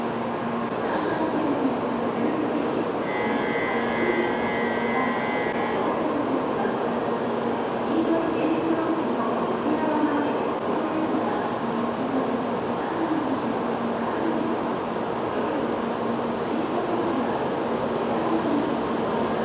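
A Japanese bullet train rolling along, a steady, even rumble and rushing noise that fills the whole stretch without pause, heard close with no talking.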